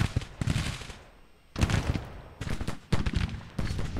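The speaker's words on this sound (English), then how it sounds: "But he's starting to take some counter battery fire." Counter-battery artillery in a Civil War strategy game: several sharp, loud cannon reports arrive in uneven bursts separated by short quiet gaps, each with a booming low thud.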